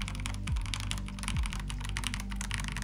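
Steady, rapid clicking of keystrokes on an Ardor mechanical keyboard, close and even, with a couple of heavier low thumps.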